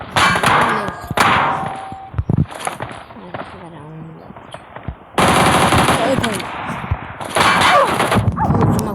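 Shotgun fire from a PUBG match rings out as several sharp blasts among metallic clangs and bursts of in-game gunfire. The noise comes in loud clusters separated by quieter stretches, with voices talking at intervals.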